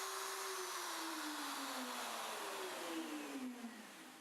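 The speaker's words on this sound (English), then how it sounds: "Finish routing socket board 1 and repeat the procedure for socket board 2." A router working through a box joint socket board on a Leigh RTJ400 jig, 3/4 inch box joints, gives a steady loud whine with a slowly falling pitch as the bit cuts, with no voices.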